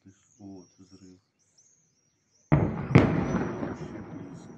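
A sudden loud explosive boom from an artillery shell, with a second sharp blast about half a second later and a long rumbling tail, after brief talk and quiet; birds chirp faintly throughout.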